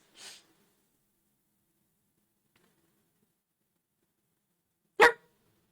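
A person imitates a dog barking with two short, sharp barks spaced about five seconds apart, the second louder and closer, with silence between them.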